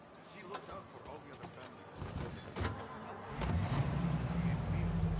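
A car driven in the video game Mafia, its engine rising from a low hum to a louder, steady rumble, with people talking over it.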